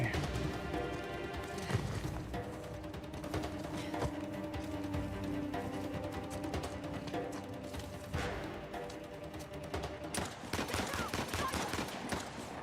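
Continuous video game gunfire in Uncharted: The Lost Legacy, rapid shots and bursts layered with crashes and impacts over a steady soundtrack for the whole stretch, with a player's voice audible.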